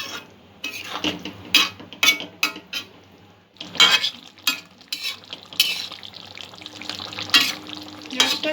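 Spicy prawn manchurian is stirred in a pan with a utensil, producing loud, repeated scraping and clanking strokes in uneven bursts over a faint sizzle.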